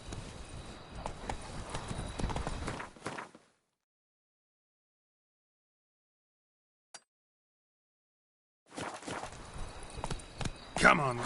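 Roach, a horse in The Witcher 3 Blood and Wine, gallops with rapid hoof clip-clops over game ambience, cutting out into near silence for several seconds before the hoofbeats resume.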